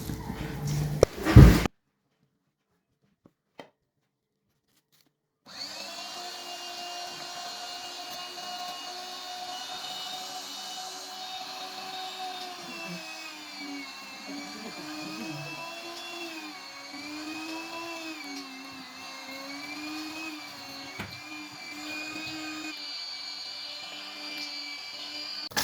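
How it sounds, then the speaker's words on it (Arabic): A kitchen grinding machine runs loud and steady as it grinds soaked bulgur for chicken kibbeh, a sustained whining drone with wavering tones. A few brief clatters and a pause come before it starts. "بنطحن بدون حكي لانه صوت الماكينة عالي"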